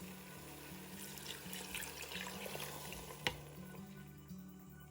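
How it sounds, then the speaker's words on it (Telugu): Water runs into a pot of rice for cooking, a soft trickling and splashing pour with a sharp clink partway through, faint and close. "ఇప్పుడు వాటర్ వేసుకుందాం."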